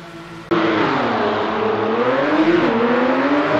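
A Porsche 992 race car engine in Project Cars 2 fires up abruptly after a quiet moment, then settles into a loud steady idle drone with slight rises and falls in pitch.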